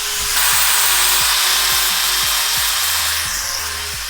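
A power tool, likely a grinder or wire wheel, works over flux core welds on a steel trunk bag-install pedestal in a Toyota Soarer, a steady loud whine with rhythmic scraping passes.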